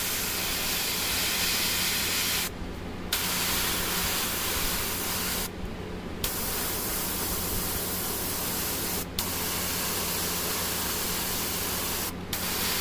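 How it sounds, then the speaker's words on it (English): An airbrush sprays diluted tan paint onto a tabletop Adeptus Mechanicus Ruststalker miniature as a steady, close hiss that runs without a break, cut by a few brief pauses where the trigger lets off. "So I'm going to dilute this in the airbrush and spray that up in there before I do my red."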